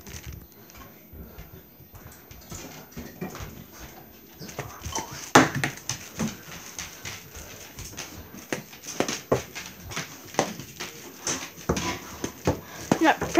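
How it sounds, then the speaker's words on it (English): A dog whimpers and yelps amid scuffling and pattering footsteps indoors, with intermittent sharp bursts growing busier toward the end, and people talking over it. "Dog."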